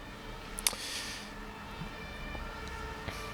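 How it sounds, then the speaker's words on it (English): Emergency vehicle siren in the distance, faint and steady as it wails through the background with faint hum and a few small knocks nearby. "And there's another siren."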